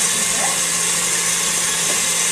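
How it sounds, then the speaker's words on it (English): An electric polisher runs with a steady, loud, high whirring drone throughout, no pauses or changes in pitch. "Polisher."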